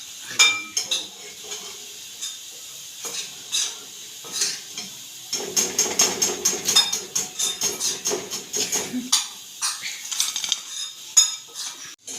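Fried cauliflower pakoras, Gobi 65 style, being lifted out of a pan with a metal utensil, giving clinks and scrapes against the pan with faint sizzling behind, busier in the middle stretch.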